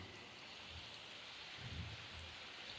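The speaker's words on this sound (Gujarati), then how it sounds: "ખરેખરનો વરસાદ" Steady rain pours over a farm field planted with sesame, mung beans, urad and pigeon peas, a continuous dense hiss with a slight low rumble swelling midway.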